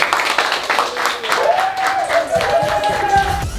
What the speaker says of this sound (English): can we give a round of applause for Bader,